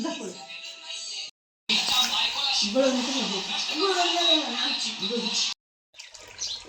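Water runs steadily into a tub being filled for cattle, a continuous broadband rush with two brief pauses, while voices talk faintly underneath.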